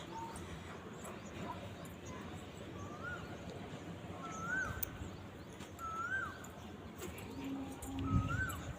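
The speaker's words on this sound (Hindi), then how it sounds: "कोयल का आवाज़" An Asian koel calling in a garden, its short rising whistled notes repeating every second or so at moderate distance over a low outdoor background, with faint human voices now and then.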